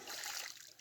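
Flowing water swirls into a strong whirlpool, making a brief, hissing rush up close that fades within a second.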